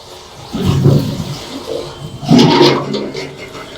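A public toilet that is filled to overflowing is flushed, giving two loud surges of rushing, gurgling water close by with no talking.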